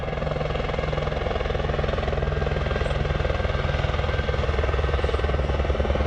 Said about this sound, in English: That's the chopper coming in